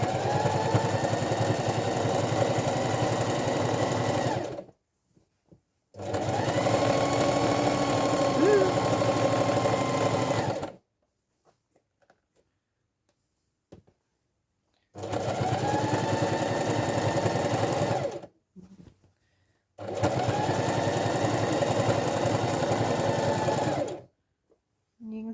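A sewing machine stitches an envelope cushion cover in four loud, steady bursts of rapid whirring, each lasting several seconds and separated by quiet pauses with a few small clicks.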